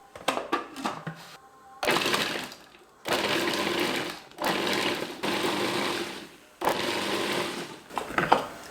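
An electric chopper runs in several pulsed bursts of a few seconds each, cutting tomato and two garlic cloves, with loud whirring and short silences between pulses. A few clicks of setup come first.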